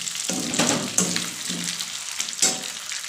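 Chicken for curry sizzles in a pan, with bursts of crackling and several scraping stirs across a short stretch, close and fairly loud.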